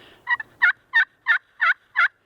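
A glass pot friction call imitates a hen turkey's yelps: six evenly spaced, clear raspy notes, loud and close, with no talking.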